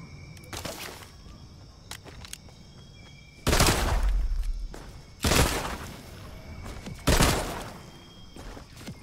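The rarest gun in Fortnite fires a few separate shots, three loud sharp cracks spaced about two seconds apart over a quiet background with faint clicks and ticks.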